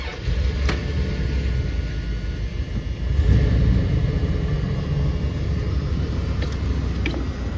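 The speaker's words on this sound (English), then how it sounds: "cold start video on the 89 Dodge Ram" A 1989 Dodge Ram Charger with a 318 V8 idles after a cold start, giving a steady low rumble with a slight swell in the middle. No one speaks.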